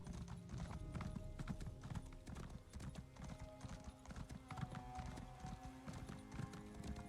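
Horse hooves clip-clopping steadily in Elder Scrolls Online, a continuous rhythmic run of hoofbeats at moderate loudness with no talk over it.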